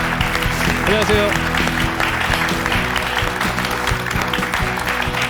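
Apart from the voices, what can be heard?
studio audience applause welcoming a guest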